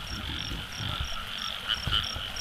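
Frogs croak steadily in a rice field at night, a dense layered chorus with repeating high calls, a few louder nearer croaks standing out toward the end.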